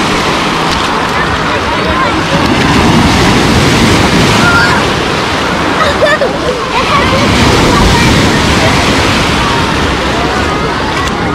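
Ocean waves break on Lazurny beach at Lazarevskoye in a loud, close surge of surf that swells and washes back again and again, with wind-like rushing and people talking underneath.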